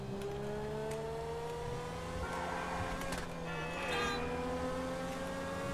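Fast car driving in GTA 5 Online, heard as a steady engine drone with rising and shifting pitch, close and continuous under faint background game sounds.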